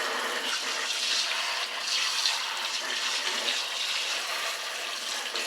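Running tap water splashes steadily over a juicer being rinsed, a continuous close hiss of flowing water with slight shifts as the parts move under the stream.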